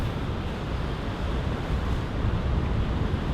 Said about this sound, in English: It's a gorgeous black sand beach.